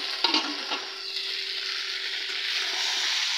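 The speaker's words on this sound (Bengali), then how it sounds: "আর ভেন্ডি ভাজি করছি" Okra frying in a pan gives off a loud, steady, dense sizzle, with a few light utensil taps near the start and no voices.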